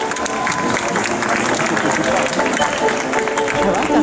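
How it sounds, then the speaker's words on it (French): A medieval jousting show audience in Angers breaks into thunderous applause and cheers, dense clapping mixed with crowd noise and voices, loud and sustained across several seconds. "un tonnerre d'applaudissements pour elle"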